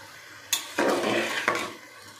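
Mixed winter vegetables, fried carrots and peas with salt and turmeric, get stirred in a pan: a sharp clink, then a burst of scraping and sizzling that fades, with no speech.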